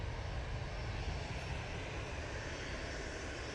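An EasyJet Airbus A320-200 taxiing at Manchester Airport gives a steady, even engine hum with a broad rumble, held at a constant level throughout with no talk.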